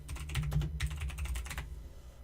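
Rapid, uneven clatter of keys typed on a computer keyboard, close and clear with no talk, in two quick bursts separated by a brief pause.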